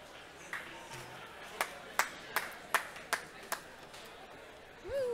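A single person claps about eight times in a steady rhythm, sharp and close, over a quiet room.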